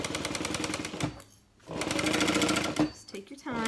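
Sewing machine running fast down the side of a tote bag, a dense rapid rattle of stitches that pauses briefly, then resumes with a few slower stitches at the end.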